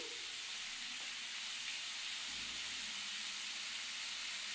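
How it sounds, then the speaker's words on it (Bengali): Spices sizzle and hiss steadily in a hot pan, a soft continuous crackle with no voices. "গ্যাসটাকে বাড়িয়ে ভালো করে ভেজে নিচ্ছি"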